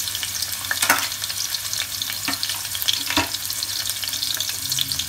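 Green chili and finely chopped ginger fry in a little oil in a kadai, a dense close sizzle broken by a few scraping strokes of a spatula stirring.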